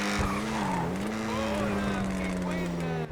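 A British car's engine in GTA 5 Online revs and rises and falls in pitch with a droning, slightly wavering tone, loud and continuous from up close, and someone talks over it.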